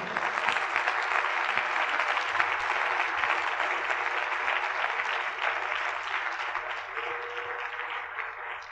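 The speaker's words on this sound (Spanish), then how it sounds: "¿Cuántos aplauden al Señor?" A church congregation applauding during a Spanish-language sermon, a steady, even wash of clapping that holds at a moderate level throughout and tapers slightly near the end.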